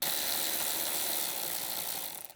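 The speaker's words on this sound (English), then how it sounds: "Use an 8mm short socket with a short extension bar and electric ratchet wrench to tighten the bolt" Electric ratchet wrench with an 8mm short socket and extension tightening a radiator mounting bolt on a 2007-2018 Jeep Wrangler JK, a close, steady buzzing whir that runs throughout before cutting off at the end.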